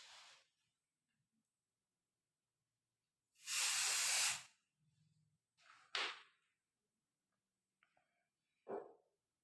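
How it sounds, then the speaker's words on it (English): An aerosol can of dye penetrant sprays onto a weld surface in short hissing bursts: one long loud spray of about a second, then shorter, fainter puffs, close up against near silence. "Now I am applying penetrant on the surface."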